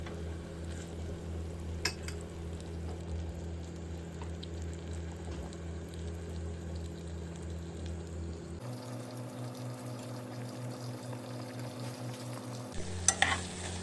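Onions and garlic sauté in melted butter in a pot, a quiet, even sizzle with light stirring and scraping that carries on steadily, with a brief brighter burst near the end.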